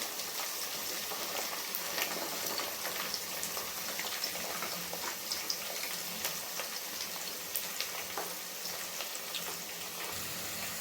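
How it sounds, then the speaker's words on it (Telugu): Onions, green chilies and whole spices fry in a pan for a chicken and foxtail-millet dum biryani, giving a steady, close crackling sizzle with dense popping that continues evenly throughout. "ఆనియన్స్ పచ్చిమిరపకాయలు మసాలా దినుసులు అన్నీ బాగా రెడ్గా వేగినాయి"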